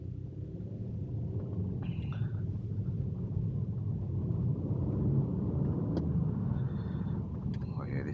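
A 2-litre BMW car driving through London gives a steady low engine and road rumble inside the cabin, continuous and moderately loud, with brief faint higher sounds over it.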